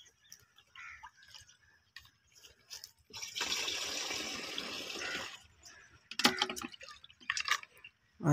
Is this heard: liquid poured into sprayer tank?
yes